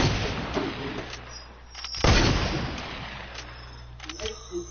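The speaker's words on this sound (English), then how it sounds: "I'm getting shot from far." Gunfire in a shooter video game, a burst of loud shots with one heavy report near the middle over a continuous low game hum, ringing out as if from a distance.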